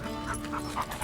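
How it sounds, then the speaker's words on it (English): A pet dog named Sam pants softly, a quick run of faint breathy puffs close by. "This is my dog, Sam."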